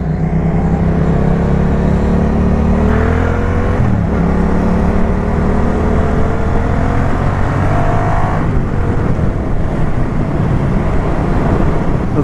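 Yamaha MT-07 or Ducati Monster 600 motorcycle accelerating hard on a road, a loud close engine drone rising in pitch through gear changes.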